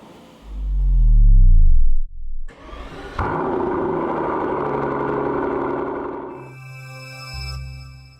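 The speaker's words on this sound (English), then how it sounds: "You don't hear the exhaust, you only hear the engine noises." A Brabus-tuned Rolls-Royce Cullinan V12 engine turns over with a low rising whine, then settles into a steady, close mechanical running rumble with a faint whirring tone near the end.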